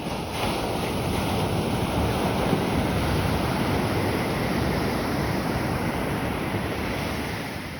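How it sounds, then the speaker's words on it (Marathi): Strong ocean waves crash onto a beach in a continuous heavy roar, with wind buffeting the microphone and no voices. "बघा काय जोरात येतात लाटा."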